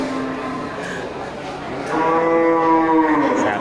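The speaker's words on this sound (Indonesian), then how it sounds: "Sapi brangus ya." Brangus cattle at an animal market lowing in a long, loud moo that swells in the second half, with faint background market noise beneath.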